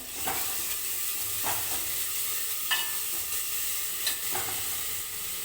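Tomatoes with salt and spice masala frying in a pan for bottle gourd curry, a steady close sizzle with a few soft stirring scrapes of the spoon, no voices.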